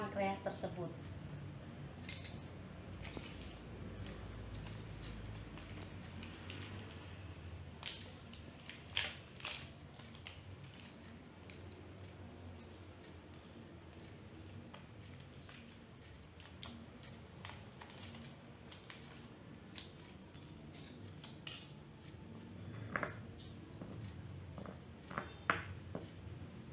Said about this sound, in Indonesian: langkah pertamanya kita akan gerus tablet ekstrak pankreas tersebut